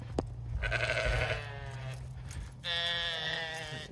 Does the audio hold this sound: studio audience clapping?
no